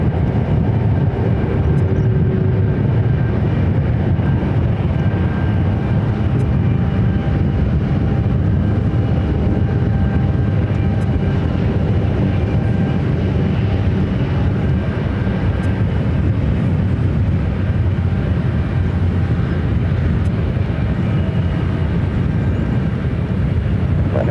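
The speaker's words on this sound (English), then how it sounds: "the Queen now starting her taxi" A Boeing 747 taxiing at Ontario airport in California gives off a loud, steady jet-engine roar with a deep rumble that holds evenly throughout, with no voices.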